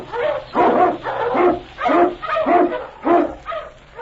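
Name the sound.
Eskimo sled lead dog barking, radio drama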